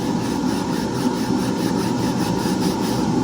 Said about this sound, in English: So there's a 100 grit sandpaper, which is kind of my go-to.